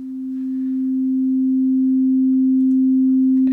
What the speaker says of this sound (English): Right now I just have a default init patch going with some sine waves.